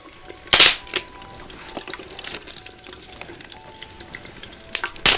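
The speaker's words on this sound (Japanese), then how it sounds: "油に投入します。オニオコゼからいきましょうかね。" Scorpionfish seasoned with salt and pepper and coated in potato starch drops into hot oil, giving loud bursts of sizzling spatter followed by a steady crackling fry with sharp pops.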